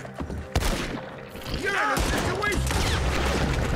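Double-barrel shotgun blasts during a Red Dead Redemption 2 shootout in Braithwaite, sharp close booms early on followed by sustained gunfire and whistling ricochets, with people talking over the action.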